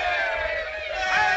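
A crowd at a lively Western gathering cheers and whoops in a short, loud burst of mixed yelling voices that rises slightly toward the end.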